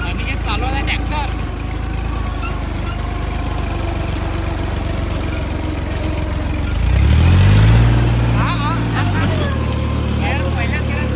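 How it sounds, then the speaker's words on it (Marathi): A farm tractor engine idles steadily, then swells into a louder, deeper rev for a few seconds before settling back, with nearby outdoor background and no speech over it. "आणि हे चालवला ट्रॅक्टर."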